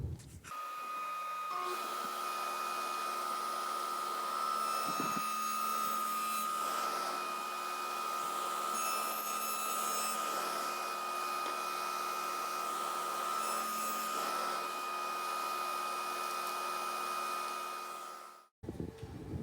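A power tool shaving a breadboard-end tongue in wood, a steady loud whine with a constant hum that runs without a break for nearly twenty seconds before cutting off.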